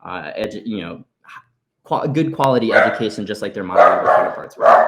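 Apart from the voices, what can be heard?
dogs barking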